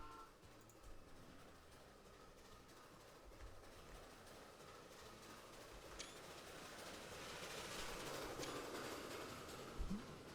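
A Big Boy steam locomotive from the Transport Fever 2 video game accelerates out of a station, a low continuous rumble of rolling wheels and rail noise that slowly swells, with faint squeals near the end.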